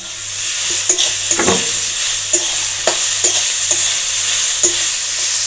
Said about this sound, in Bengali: এঁচোড়টাকে মশলার সঙ্গে আমি একটু ভাজা ভাজা করে নেবো।